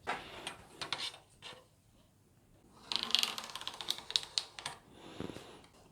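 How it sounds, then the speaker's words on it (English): A pencil scratches a quick center line onto a guitar fretboard on the bench, giving soft rapid scraping and tapping strokes in short bursts, close and moderately quiet, with no talking. "I'm just very quickly going to transfer that on to a pencil line"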